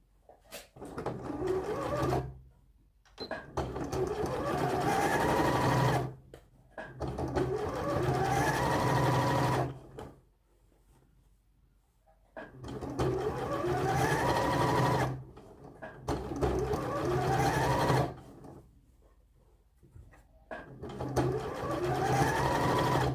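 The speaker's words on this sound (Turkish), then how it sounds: "Pervazımıza cima dikişi atıyoruz." A sewing machine runs a topstitch along the facing of a vest, buzzing steadily in six separate bursts of a few seconds each, with short quiet pauses in between.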